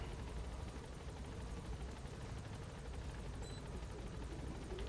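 Helicopter in Metal Gear Solid V: The Phantom Pain, a steady rotor drone that runs unbroken and fairly loud throughout, with no talk over it.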